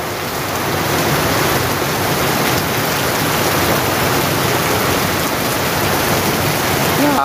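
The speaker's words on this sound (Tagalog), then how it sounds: "grabe yung buga ng tubig" Dirty water gushes forcefully out of a hole where catfish are being washed out, a loud, continuous rushing roar close by that holds steady without a break.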